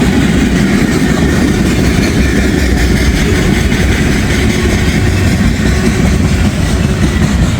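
A CSX freight train rolls past close by, a loud, steady low rumble of cars and wheels sustained throughout with no voices.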